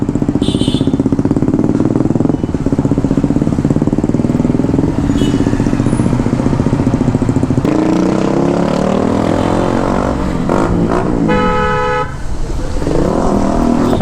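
A Honda CBR Repsol motorcycle with its exhaust removed roars loudly and steadily close by, a harsh, buzzing engine note that shifts in pitch later on, with a brief horn-like tone near the end.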